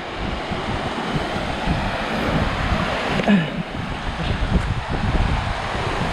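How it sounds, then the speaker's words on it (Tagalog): Broadband rushing water from a river near Kennon Road, heard steadily and fairly close throughout, with wind buffeting the microphone and no speech over it. "Ito na yung ilog, oh."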